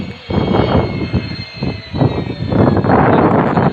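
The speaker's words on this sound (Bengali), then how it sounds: "আরেকটা বিমান ল্যান্ড করে দেখালাম, যাত্রীবাহী বিমান।" A passenger airplane coming in to land at an airfield, its jet engine roar broad and steady at close range, swelling and easing with brief dips before rising louder toward the end, with no voices.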